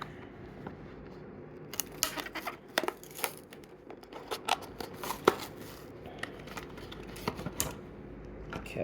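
A cardboard and plastic package holding a Thomas and friends diecast toy train is opened up close, giving scattered crinkles, scrapes, tearing and sharp clicks in irregular bursts, fairly quiet, with nobody speaking.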